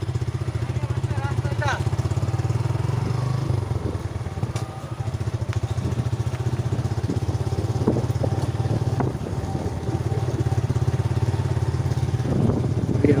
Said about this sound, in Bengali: আপাতত বাইকে উঠলাম